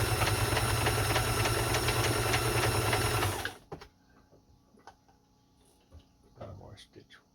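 A Kenmore 158.1400 sewing machine runs at a fast, even stitching pace for about three and a half seconds, close and loud, then stops, leaving a few soft clicks and handling noises.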